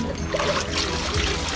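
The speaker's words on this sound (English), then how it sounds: "So you take the filter pads and you rinse it out in this water" Water trickles and splashes steadily as aquarium canister filter pads are rinsed out in a container of water, a soft continuous dribble close by.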